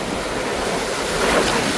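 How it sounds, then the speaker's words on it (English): Rough ocean waves surge and wash around a small boat off Mallorca, a close, constant rush of surf mixed with wind buffeting the microphone, rising slightly toward the end. "No, the waves is too much here."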